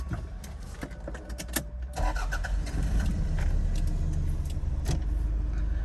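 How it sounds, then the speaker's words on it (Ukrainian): A 1996 Toyota RAV4 with a manual gearbox cranks briefly and starts, settling into a steady, even idle heard close up with no talking. "Як ми бачимо, автомобіль заводиться ідеально."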